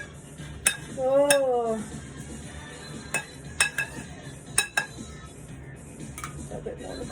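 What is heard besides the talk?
metal spoon scraping and clinking in a baking dish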